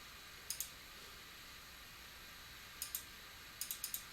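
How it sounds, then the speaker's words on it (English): A computer mouse clicks quietly in crisp pairs of double clicks, about four in all, spaced irregularly, with nothing else but a faint steady room hiss. "Again, I'm just double clicking"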